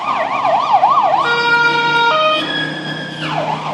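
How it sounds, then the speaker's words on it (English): A wailing ambulance siren sweeps up and down, then shifts to steady tones and resumes wailing, loud and close over low traffic rumble. "That's another ambulance."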